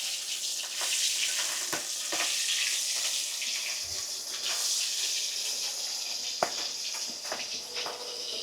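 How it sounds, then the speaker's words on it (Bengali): Topse fish frying in hot oil in a wok, a continuous bright sizzle with scattered crackles and pops throughout, no voices. "একটা একটা করে মাছ দিয়ে ভেজে উঠিয়ে নেব"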